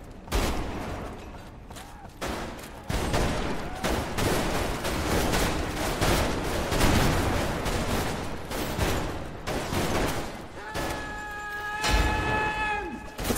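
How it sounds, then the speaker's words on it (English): Gunfire in the Roblox game Grave/Digger crackles in dense, continuous volleys of shots and crashes, with players shouting at moments. "Shoot the gun!"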